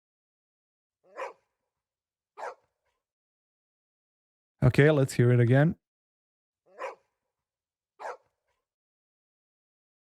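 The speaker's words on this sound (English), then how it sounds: "The first I will add is the sound of the dog barking." Dog barking sound effect: four short, isolated single barks spaced a second or so apart, with a brief stretch of talk in the middle, against otherwise silent background.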